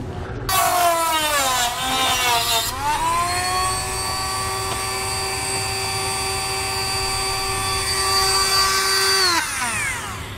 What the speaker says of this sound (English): Now I'm going to use a small Dremel tool, but however this plastic is fairly thin